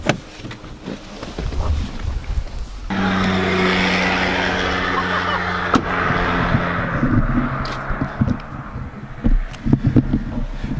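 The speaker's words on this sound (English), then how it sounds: "There's been quite a few cars hooning up" Cars hooning up a mountain pass near Mt Fuji, Japan, with a loud, sustained engine roar that builds and passes, over gusty wind noise and a few scattered thumps.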